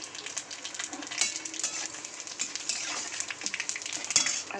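Faint, crackling sizzle of dry red chillies and five-spice seeds hitting hot oil in a kadai, with scattered pops and light utensil clinks, fairly quiet and without any talking.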